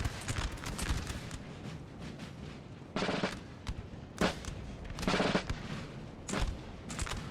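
Musket fire in a Napoleon Total War battle crackles as ragged volleys and scattered shots, with several sharp bursts spaced a second or so apart over a continuous battlefield din at moderate distance.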